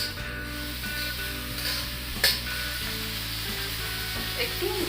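Whole cumin seeds and turmeric sizzling in hot oil, a continuous close frying crackle with a brief sharp spatter in the middle and light stirring, no voices.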